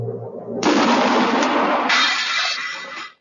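Cannon firing sound effect, a heavy boom followed by a long roaring blast and rumble that sustains loudly before cutting off.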